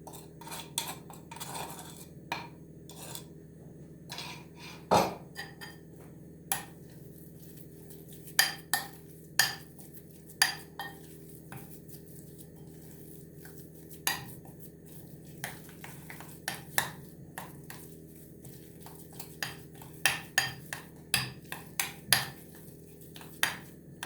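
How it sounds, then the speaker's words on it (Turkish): A spoon clinks repeatedly against a bowl while spices and garlic are stirred into a Turkish meze mixture, with sharp irregular taps over a quiet background and no talk. "Güzelce karıştırıyoruz."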